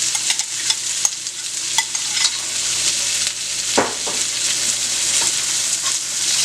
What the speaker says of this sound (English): And I'm just going to saute this for a few minutes.